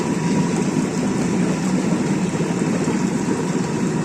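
Air jets of a jacuzzi bathtub bubbling water up through the centre of the tub, a steady dense burbling rumble with an even blower drone throughout.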